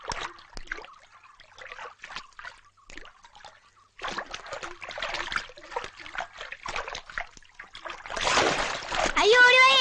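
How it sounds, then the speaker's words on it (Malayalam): A person falls into water, and a burst of loud, close splashing fills the last two seconds after a stretch of excited, shouting voices. "ആ ജയ വെള്ളത്തിൽ വീണ് ആരെങ്കിലും ഒന്ന് ഓടി വരണേ"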